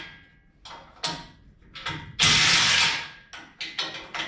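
Hand ratchet loosening bolts on a rear tire carrier and bumper of a Jeep TJ: a series of short, close metallic clicking bursts separated by pauses, with one longer, louder stretch of rapid ratcheting in the middle.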